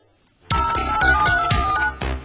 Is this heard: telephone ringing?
yes